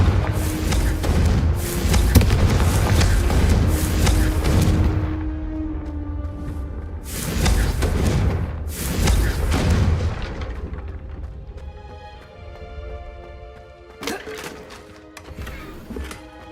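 Confringo explosion spells from Hogwarts Legacy go off as repeated loud booming blasts, several heavy thuds in succession with rumbling tails, while a voice shouts over the action.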